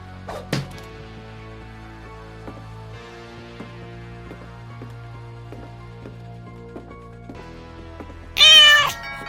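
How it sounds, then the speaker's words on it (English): Quiet, sustained tones fill most of the stretch before a loud, close cat meow from the video game What Remains of Edith Finch bursts in near the end. "Meow."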